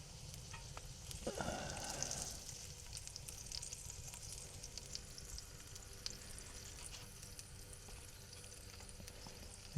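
Burgers fry in a pan inside a hot tent during winter camping in the snow, a quiet steady sizzle and crackle lasting throughout, with a brief louder burst of spitting near the start and no voices.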